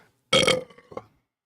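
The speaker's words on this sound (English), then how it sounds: "When I burp, that's a freaking high definition audio burp coming to you" A loud, close burp into a Shure SM7B studio microphone, one strong guttural belch with a short trailing gurgle after it, alone with no talking.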